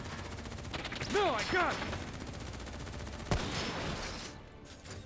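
Gunfire during a Call of Duty Black Ops campaign cutscene, a burst of shots under shouted voices with a sharp loud crack near the middle before the sound fades.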